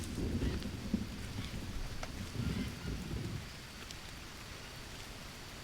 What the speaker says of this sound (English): looks like we are maybe going to get some rain again